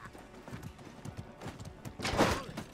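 Horse hooves clop in a rapid galloping rhythm during a Mordhau medieval combat match, fairly faint amid game noise, with a louder burst near the end and someone talking quietly underneath.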